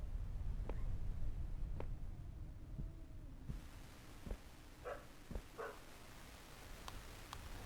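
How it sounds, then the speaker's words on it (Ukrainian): A dog barks faintly in the distance, a few short, scattered barks in the horror game Something In The Well, over a low, dark ambient rumble with soft thuds. "Там десь пес гавкає."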